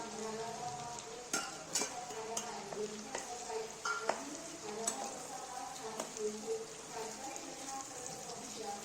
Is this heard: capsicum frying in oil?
yes